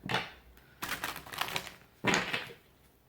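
Tarot cards shuffled and drawn from a deck: a few crisp riffling, snapping bursts of card stock, close and fairly loud, with short pauses between, no talking.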